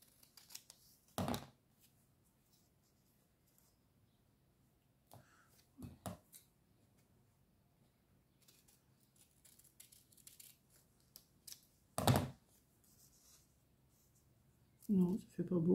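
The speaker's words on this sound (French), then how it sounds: "Je vais couper en 4." Scissors cutting paper for a craft alphabet project: a few separate short snips spaced several seconds apart against quiet room tone, with a rustle at the end.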